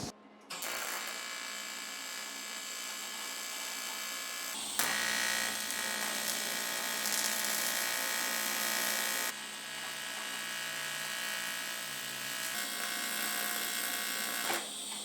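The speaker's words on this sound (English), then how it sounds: "Wow, that took a long time to weld" Sides of fuel tanks being welded on a bench, giving a long, steady buzzing hiss that runs nearly without break, shifting in tone a couple of times and staying fairly loud throughout.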